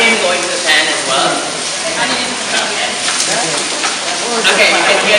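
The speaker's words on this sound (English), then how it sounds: "you can hear the pan sizzling, so give it a stir" Sliced onion sizzles in a hot frying pan while ratatouille with beans is cooked, a steady close hiss and crackle that runs unbroken throughout.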